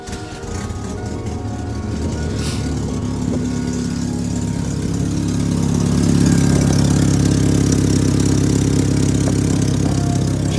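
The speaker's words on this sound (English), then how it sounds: "My manifold makes a lot of noise." A 1998 Chevy S10 idles with a loud leaking exhaust manifold, giving a steady, rough, raspy engine drone up close that grows louder partway through, with no talking.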